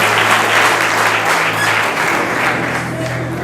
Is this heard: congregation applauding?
yes